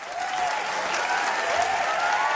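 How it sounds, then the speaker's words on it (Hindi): A comedy show audience breaks into strong, sustained clapping that swells and holds steady throughout, with a faint voice underneath. "इनके लिए भी जोरदार तालियां"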